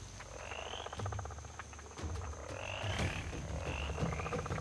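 Frogs and toads croak in an evening chorus on riverbanks in the Serengeti and Maasai Mara, a dense, steady layer of overlapping pulsing croaks with crickets chirping throughout.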